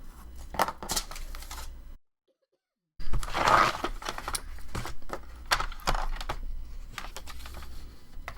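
Scissors cutting paper for a journal page, a run of crisp snips and rustles at close range, broken by a brief silent pause before the cutting resumes.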